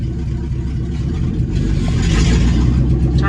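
A 1966 C30 truck on the road, its engine droning steadily, then swelling louder and rougher partway through as it is shifted into second gear; close, continuous engine noise with no talking.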